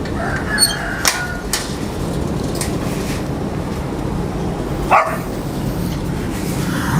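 Bully dogs and puppies give a few scattered barks and yips in a noisy outdoor setting, short sharp calls spaced apart over constant background rumble.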